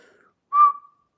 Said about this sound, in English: Why did I whistle?